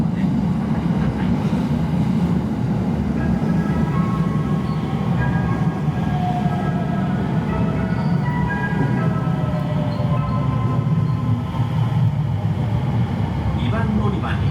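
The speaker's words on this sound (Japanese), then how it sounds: "2番乗り場に列車が参ります" A sleeper train rolls loudly into a station platform with a steady heavy rumble of wheels and carriages, and a platform announcement sounds over the arrival.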